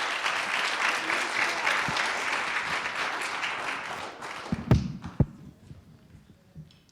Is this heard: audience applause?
yes